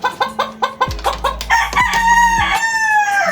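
A gamecock rooster, a champion fighting bird recovering from wounds after a fight, clucks in a quick rhythmic series and then lets out a loud, close crow that rings on and fades.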